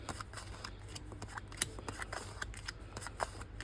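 Playing cards are dealt and crossed over by hand, giving a quick run of soft, close slaps and flicks in an irregular rhythm over a faint steady hum.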